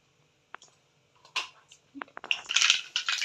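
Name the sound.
mustard seeds spluttering in hot oil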